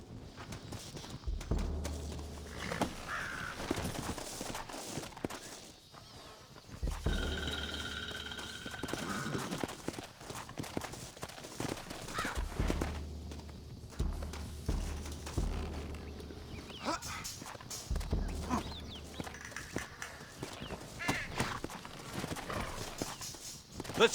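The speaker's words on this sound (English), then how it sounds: "Looks like Carlos left us some horses." Horses in Red Dead Redemption trot and clip-clop on the ground in repeated bursts, with an occasional whinny and faint music in the background; no one speaks.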